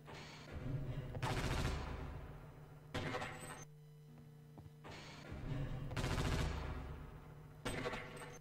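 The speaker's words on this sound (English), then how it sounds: "I need to fire more shots." Gunshots in the video game Half-Life: Opposing Force come in bursts of rapid fire separated by short pauses, loud and close, over a low steady game hum.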